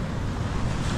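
Steady ocean surf of waves smaller than the day before washes in continuously alongside rushing wind buffeting the microphone, with no talking.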